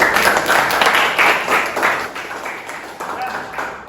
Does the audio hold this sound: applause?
yes